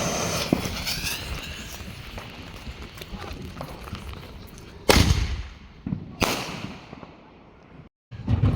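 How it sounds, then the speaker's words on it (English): Artillery ball shell fireworks at a 4th of July street display, shown as two loud sharp bangs roughly a second apart over a busy crackling outdoor background, followed by a brief quiet gap and another burst. "All right, this here is an artillery ball shell."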